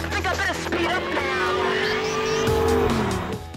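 An Audi R8 accelerates with a loud, rising engine tone and a tire squeal building over a few seconds, close by and steady throughout.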